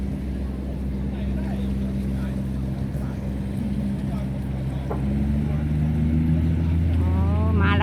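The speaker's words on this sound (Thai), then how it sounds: "เดียวก็เสียงเครื่องลั่นๆนะคะ ดึงไปให้ได้นะคะ สามเรือโป๊บรรทุกหนักนะคะ" A heavy tugboat engine pulling three heavily loaded barges drones low and steady throughout, growing slightly louder toward the end, with someone speaking over it.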